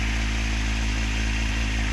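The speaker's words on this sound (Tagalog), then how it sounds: "pinapainit na natin yung motor ni Bossing" A Kawasaki Ninja 750 motorcycle warms up at a steady idle, a loud, close, continuous engine rumble with an even low throb and no revving, heard with no voices.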